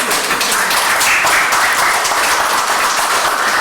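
A dense, continuous wash of applause from a large crowd at a school district gathering, loud and close, with no talking over it for the whole span.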